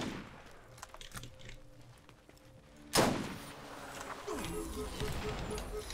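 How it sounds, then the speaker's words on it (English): Rockets are fired in the shooter video game Borderlands: a sharp blast hits midway, then a sustained rumbling, whooshing roar of incoming fire over a busy game soundscape. "now he's gonna shoot rockets at me."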